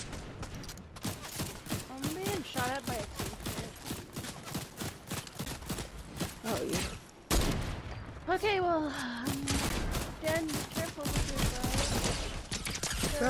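Rapid gunfire bursts from the Fortnite video game, quick repeated shots and mechanical clicks interleaved with excited voices talking and shouting over the action throughout.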